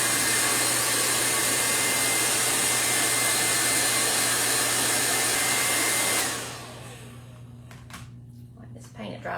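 Hair dryer blowing steadily and loudly on an air dry clay ornament, close by, then cutting off abruptly, leaving a quiet room with a few small handling knocks.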